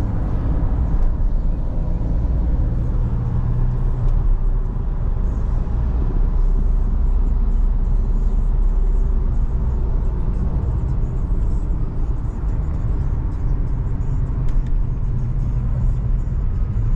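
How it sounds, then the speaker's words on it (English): A big truck passes on a highway, heard as a steady, loud low rumble and road roar from inside a moving vehicle, continuous throughout with no voices. "Big truck! How many big trucks for the day?"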